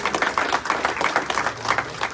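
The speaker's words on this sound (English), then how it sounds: "Round of applause for the parents." At a school awards night, an audience claps briefly for the parents, a short burst of moderately loud, rhythmic clapping from a small crowd.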